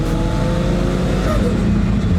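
A budget-turbocharged 4.0L Intech engine in an AU drift car is held at full throttle and roars loud and close in one steady, unbroken blast.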